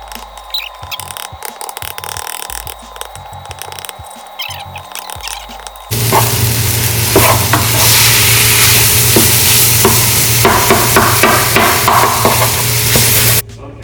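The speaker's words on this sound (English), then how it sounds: "I'm gonna get another spatula and start breaking this turkey down and cooking it" Turkey sausage being broken up and fried with a spatula, quiet tapping and scraping at first, then a loud, steady close sizzle with repeated spatula chops and scrapes against the pan.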